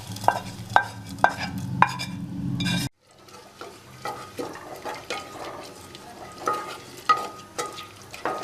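Spoon scraping and stirring sautéed spices into moong dal lentils in a pot, with sizzling and liquid sloshing; a brief pause, then softer repeated stirring sounds over a low simmer.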